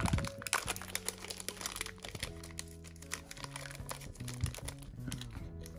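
Plastic packaging around a CalDigit TS3 Plus Thunderbolt dock is unwrapped by hand, giving close, irregular crinkling and crunching with sharp bursts throughout, and no talk.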